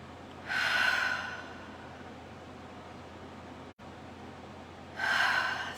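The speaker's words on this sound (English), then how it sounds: "just a couple of nice deep breaths" Two deep, slow breaths, each a long airy inhale close to the microphone, separated by a quiet pause over a faint steady hiss.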